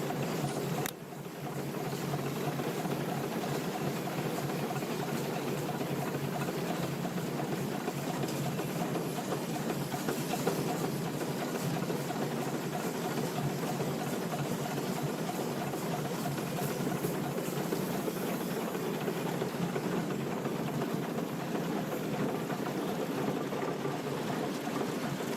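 An old steam donkey engine, the portable logging winch engine, runs steadily for the whole stretch, a constant mechanical churn and hiss at moderate level with no pauses.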